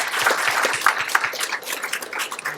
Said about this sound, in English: I'd like you to join me in giving a round of applause to our panel today